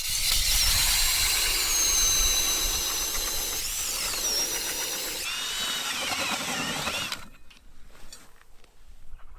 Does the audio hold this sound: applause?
no